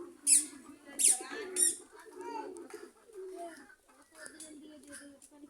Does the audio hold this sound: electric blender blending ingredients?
no